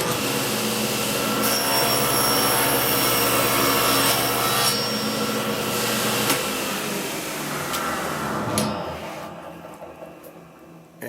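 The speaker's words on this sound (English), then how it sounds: "Miter up, you're going to cut this tongue off." A power saw cuts the tongue of a lock miter joint in wood, a loud sustained whirring rasp that drops away near the end as the blade spins down, close by with no talk.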